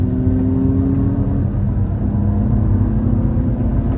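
A race car on a circuit track roars and accelerates steadily, a loud continuous rumble with rising whine, no talking.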